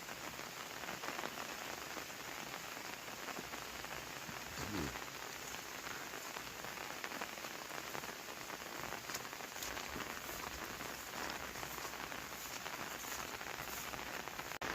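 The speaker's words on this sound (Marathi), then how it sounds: "कालपासून तर पावसानं खूपच जोर धरलाय" Dense, steady heavy monsoon rainfall drumming on surfaces in a Konkan village, a constant wash of drops with no voices, sustained throughout.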